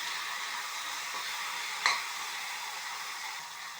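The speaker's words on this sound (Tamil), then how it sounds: "நல்லா வதங்கணும் வெண்டைக்காயும்." Okra sautéing with tomato and onion in a pan, a steady soft sizzle throughout with one brief clink partway through, no voices.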